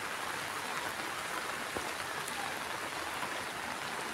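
Heavy monsoon rain pours steadily, a dense, even hiss of downpour on surfaces with no breaks and no voices throughout.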